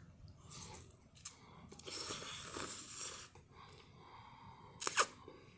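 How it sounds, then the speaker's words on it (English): Spicy ramen eaten close to the mic, with quiet chewing and slurping sounds, a longer burst of noisy slurping in the middle and a sharp crunchy bite near the end. "try this spicy ramen"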